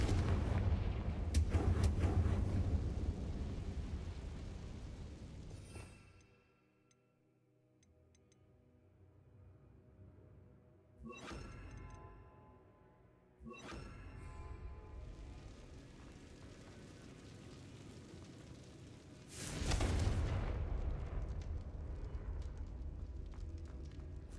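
Bombarda and Confringo spell blasts go off in a video game as loud, heavy booms and rumbling explosions, separated by quieter gaps, with a final burst near the end; no one speaks.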